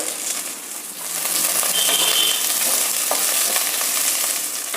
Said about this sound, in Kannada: ಡೈರೆಕ್ಟಾಗಿ ಈರುಳ್ಳಿ ಹಾಕ್ತೀನಿ ತರಕಾರಿ ಈರುಳ್ಳಿ ಅಷ್ಟೇ ಹಾಕಿ ಫ್ರೈ ಮಾಡೋದು